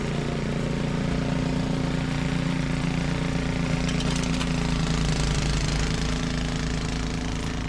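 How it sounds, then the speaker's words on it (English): Snow blower running steadily over unfrozen gravel, a dense rumbling engine roar with a gritty, clattering texture throughout and scattered sharper crackles, close and loud. "what you heard there is pieces of gravel"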